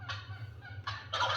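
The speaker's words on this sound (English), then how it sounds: "we do have a lot of turkeys in this neighborhood" A turkey gobbles in a neighborhood, several close, rapid warbling calls in quick bursts over a low steady background hum, with no talking.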